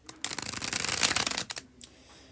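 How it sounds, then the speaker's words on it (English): A deck of tarot cards is riffled in a bridge shuffle, a close, loud rapid flutter of cards lasting over a second before a softer final cascade and a quiet tap. "I'm about to do the bridge shuffle"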